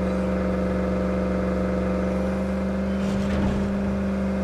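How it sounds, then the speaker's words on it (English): Loud, steady engine drone of a car in State of Decay 2, a constant low hum with strong tonal bands and a brief rise in intensity near the end, with no talk. "Oh my god, this vehicle's loud."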